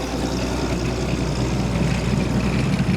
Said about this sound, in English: You hear the popping of the sputtering there of the 7-cylinder right aircraft engine